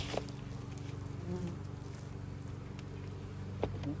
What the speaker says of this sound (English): Yep, one bee got in there.